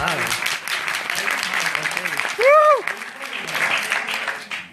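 An audience at a 2017 town hall bursts into applause, a dense wash of clapping that swells and fades across several seconds, with a brief tonal sweep partway through and voices mixed in.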